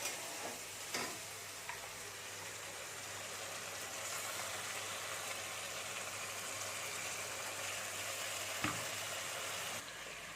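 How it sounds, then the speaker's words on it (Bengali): Ground spice paste fries with onion in a pan, a soft, steady sizzle heard close, with a few light clicks of stirring early on and near the end, and no talk. "মশলাটাকে একটু ভালো করে ভাজতে হবে"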